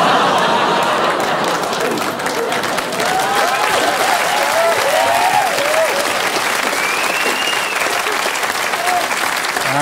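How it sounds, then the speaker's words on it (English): A television studio audience claps loudly and continuously for the whole stretch, with scattered whoops and laughter mixed into the dense applause. "I can't believe you clapped for that, Australia."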